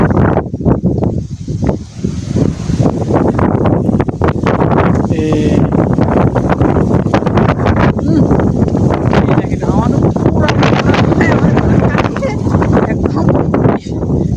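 Strong gusty wind near a canal where fishing nets hang buffets the microphone in rough bursts, heavy and close, under near-continuous talking.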